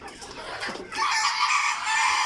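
A three-month-old Egyptian Fayoumi hen clucks close by, a few short throaty calls followed by a louder, drawn-out squawk.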